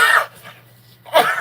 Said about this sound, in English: I'm sneezing again.